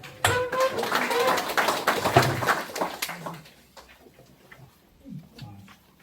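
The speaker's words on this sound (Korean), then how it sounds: "소개해 드릴 때마다 힘찬 박수로 환영해 주시기 바랍니다" An audience welcomes a guest at a Mungyeong Gamhong apple growers' summer lecture with a dense burst of clapping that lasts about three seconds, then thins to scattered claps and quiet room noise.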